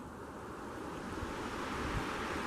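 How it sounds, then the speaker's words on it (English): A river flowing behind bushes at a July campsite on the Cispus, a steady rushing wash of water with a low rumble, moderately close and continuous, no voices. "Just looking through the bushes and seeing the river flowing behind it."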